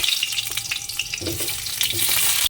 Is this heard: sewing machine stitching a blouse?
no